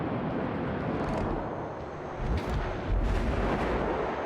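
Heavy naval guns from warships in World of Warships boom in deep, rumbling blasts, with two louder salvos landing late over a constant roar of sea and engine noise.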